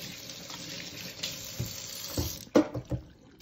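Hands being washed under a running kitchen or bathroom tap, a steady low hiss of flowing water with a few louder splashes and clatters near the end, close by and with no talk over it.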